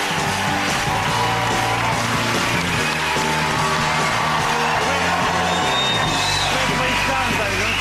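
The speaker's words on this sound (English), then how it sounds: "Milking the applause." A studio audience on The Jonathan Ross Show applauds and whoops loudly for guest Griff Rhys-Jones. The dense, sustained clapping and cheering carries on, with voices shouting within the crowd.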